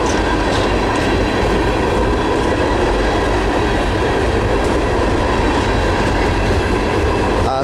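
A Norfolk Southern ballast freight train rolls steadily past at close range, a loud continuous rumble with rhythmic wheel clatter and faint squeal that goes on without a break.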